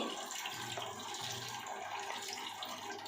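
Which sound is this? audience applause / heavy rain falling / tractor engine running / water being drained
water being drained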